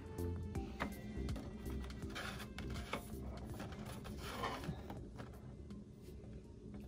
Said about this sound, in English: That's going to mean that the printer's going to take a little bit more pass